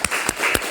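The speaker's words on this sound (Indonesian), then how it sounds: "Tepuk tangan untuk Romi." Three sharp, evenly spaced claps ring out briefly in a classroom, applause for a student.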